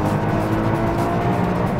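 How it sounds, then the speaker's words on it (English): A Lotus Evora S engine drones at a sustained, loud, close rev, holding a steady rumbling pitch without clear gear changes, no voices. "you can hear that the engine will rev match, but also if I increase the RPM"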